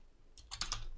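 Computer keyboard typing, a quick close burst of several crisp key clicks after a brief quiet start.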